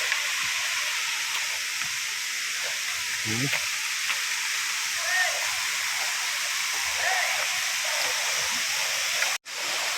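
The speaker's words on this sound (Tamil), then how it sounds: "இன்னொரு ஃபால்ஸ்." A waterfall in the Pothigai hills, a constant broad rushing roar heard from nearby that fills the whole stretch, steady and unbroken apart from a brief drop near the end.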